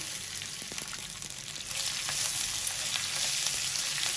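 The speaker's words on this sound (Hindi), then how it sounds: "मिर्चे हैं जो मैंने आलू से भर के रखी है, ये मिर्चे डाल देंगे।" Green chillies stuffed with potato drop into hot oil and fry, the sizzle swelling about halfway through into a loud, steady crackle close by, alone without talk.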